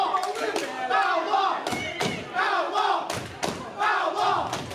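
Wrestling crowd at an Impact X-Division Championship show, cheering and chanting in loud rhythmic bursts with thumping beats between them, like a repeated call from the stands.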